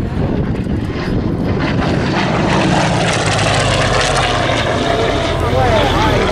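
Yakovlev Yak-11 piston propeller aircraft at an air show, its engine roaring loud and steady throughout with a rising droning pitch, close by and continuous.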